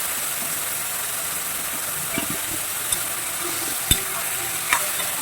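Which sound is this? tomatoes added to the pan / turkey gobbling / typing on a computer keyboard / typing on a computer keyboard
tomatoes added to the pan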